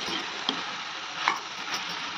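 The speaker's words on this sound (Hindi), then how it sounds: "तो तिल डालने के बाद में आपको इसे अच्छे से मिक्स करना है।" Sesame seeds are stirred into a mixture, a faint continuous hiss with a few soft scraping clicks from the spoon, close and quiet with no talking.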